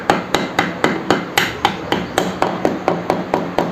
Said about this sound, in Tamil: ஹெட் ஸ்லீவ் போட்டு கட்ட ஸ்லீவை தட்டிக்கலாம்.